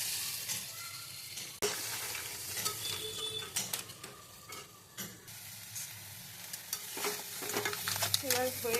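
Crab curry with spices being stirred in a pan, a steady sizzle of frying with repeated scraping and clinking of the spoon against the pan, close and continuous with no talk.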